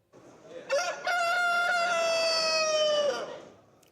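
A rooster crows one long, clear cock-a-doodle-doo at a chicken beauty pageant in Libya, heard close and alone against a quiet background.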